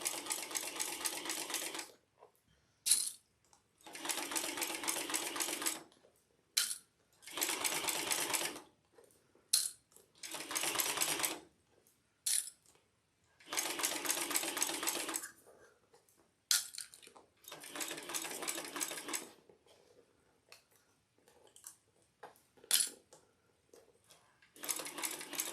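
A sewing machine stitches a Juanita bag in repeated bursts of rapid mechanical whirring, each lasting one to two seconds, separated by short pauses and small clicks; recorded fairly faint.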